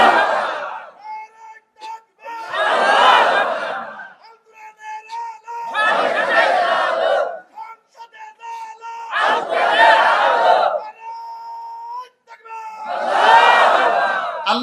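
A large crowd at an outdoor religious gathering in Jessore bursts into loud, unison takbir chants, five powerful shouted waves separated by short pauses, with a faint tonal hum between them.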